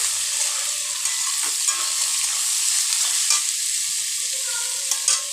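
Long beans, chopped capsicum and carrot being stir-fried in a pan for egg chowmein, a constant close sizzle with repeated spatula scrapes and knocks, no one talking.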